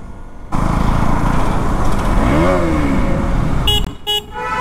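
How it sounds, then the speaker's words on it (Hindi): A KTM Duke 200 naked motorcycle is ridden on the road, its exhaust note loud and steady. The engine swells and dips as the revs change, and sharp horn toots from nearby traffic break in near the end. "हाँ सुना आपने आवाज़ एग्जॉस्ट नोट इसका भाई"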